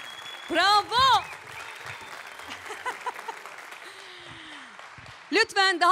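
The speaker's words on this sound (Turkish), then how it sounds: "Lütfen daha kuvvetli bir alkış istiyorum." Studio audience applause on a Turkish TV music show: a sustained burst of clapping in the middle, with a voice speaking just before and after it.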